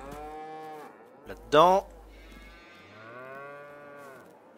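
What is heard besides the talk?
cows mooing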